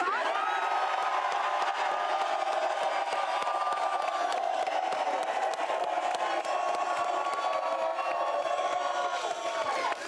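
A studio audience on the Super Bowl 57 set of a Fox sports talk show cheers and whoops, a loud, steady roar of the crowd that holds without a break throughout.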